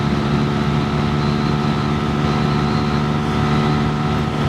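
Engine of a 2022 Sinnis SM-R 125 motorcycle running while riding, a loud, steady droning hum with even tone and no strain, mixed with wind rush.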